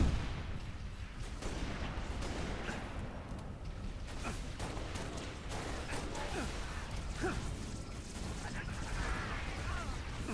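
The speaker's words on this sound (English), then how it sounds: "That was a good grenade throw" Halo video game combat with a grenade blast and gunfire, a dense continuous wash of battle noise with scattered sharp cracks and mechanical clatter throughout.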